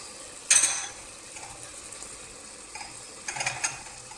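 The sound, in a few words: soaked lentils and leftover dal scraped from bowl into pot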